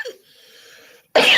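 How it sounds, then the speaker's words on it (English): A single sharp, loud cough bursts out right at the end after a stretch of near-quiet room tone, close to the microphone during a WNBA-focused talk show. "That was a cough."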